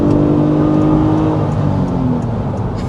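A 2026 Honda Pilot Elite V-6 SUV accelerates hard in sport mode, its engine note loud and steadily climbing in pitch with a rising whir, then easing slightly as it settles near the end.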